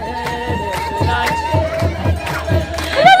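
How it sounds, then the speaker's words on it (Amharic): A crowd ululates in joyful bursts to welcome a tabot procession at an Ethiopian Orthodox feast of Saint Michael, with loud, rhythmic, high trilling cries over a steady background of singing voices. "እልል ብላችሁ ተቀበሉን።"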